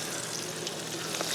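Ground dried chili and fried onion paste sautés in a pan for sambal ayam, giving a close, dense, continuous sizzle with no talk over it.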